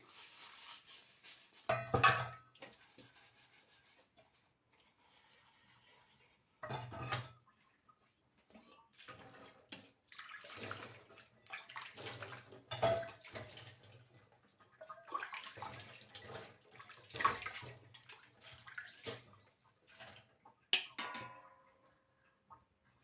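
Dishes and utensils washed at a home kitchen sink in an evening routine, with running water in on-and-off bursts and occasional clinks of pots and plates, close by and fairly faint, with no speech.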